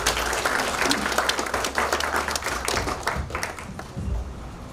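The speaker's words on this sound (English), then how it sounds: "So let us clap for ourselves." Audience clapping at an anti-corruption integrity awards ceremony, a lively burst of many hands clapping at close range with some sharp individual claps, fading slightly toward the end.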